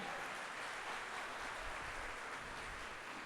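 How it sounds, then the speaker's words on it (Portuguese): A church congregation applauding during a Catholic service led by a priest, a soft, even wash of clapping heard from a distance that holds steady throughout. "pode aplaudir essa verdade."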